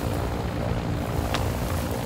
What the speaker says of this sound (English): I'm on the chopper.